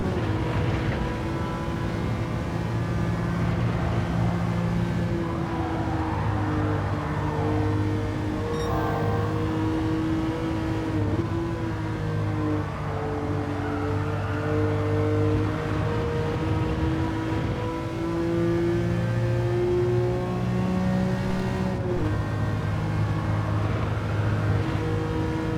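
A Ferrari Dino race car in Gran Turismo 7 on the Sardegna circuit drones steadily at high revs, its engine note rising and falling through gear changes and throttle, loud and continuous with no talking.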